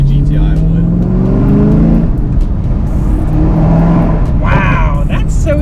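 A Chevrolet Camaro ZL1 1LE with a Tremec manual gearbox pulls away and accelerates, a loud, close engine drone rising in pitch from inside the cabin, with people talking over it.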